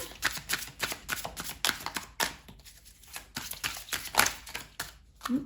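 A tarot deck is shuffled by hand up close, with repeated riffling, slapping card bursts in an uneven rhythm and brief pauses between them.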